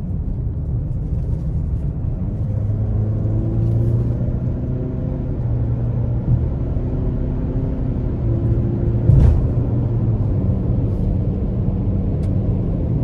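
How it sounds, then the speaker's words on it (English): A 2024 Ford Explorer XLT RWD accelerates gently up an interstate on-ramp, its engine hum rising under a steady wash of road and tire rumble heard from inside the cabin, with one brief bump partway through. "we'll give it one more slight pull getting on the interstate here."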